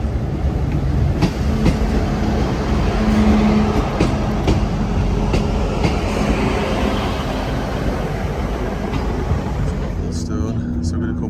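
A three-car passenger train in Devon rumbles past with rhythmic clicking over the rail joints, loud and steady throughout, with brief voices in the background.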